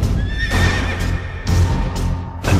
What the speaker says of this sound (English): And I looked, and beheld a pale horse